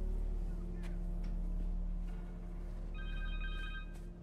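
In the video game Spider-Man 2, a cell phone rings with a brief electronic tone near the end, over a constant low hum of game ambience.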